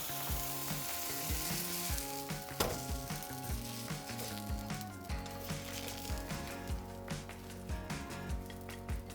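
Buckwheat blueberry pancakes sizzle steadily in a hot pan, a continuous bright frying hiss with scattered crackles and a few soft utensil taps, heard close with no talking.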